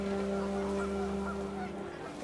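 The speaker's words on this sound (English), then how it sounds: "The wind picked up, and panicked geese appeared and quickly went." Panicked geese honk from the video game What Remains of Edith Finch, a dense flock of overlapping calls held steadily over a windy ambient drone, continuous and fairly loud throughout.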